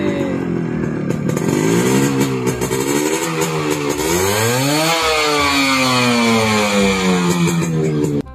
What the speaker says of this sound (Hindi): ऐसे बाइक स्टार्ट करके बस एक्सलेटर घुमाते रहो